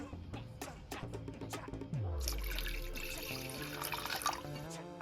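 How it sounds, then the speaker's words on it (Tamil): Water pours steadily into a vessel for appam batter, a continuous trickling splash that starts partway through after some quieter clinks. "இதுக்கு முக்கால் சில்வர் அளவுக்கு தண்ணி விடுறேன்"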